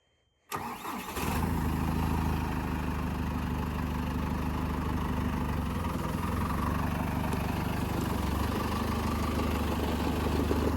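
A tractor engine starts with a brief crank and settles into a steady, loud, close idle that runs unchanged for around ten seconds, with no talk.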